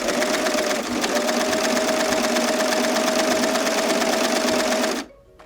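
Overlocker serger sewing machine stitching fabric with heavier threads on the loopers and lighter threads on top, a loud close rapid whirring hum held steadily for about five seconds before stopping abruptly.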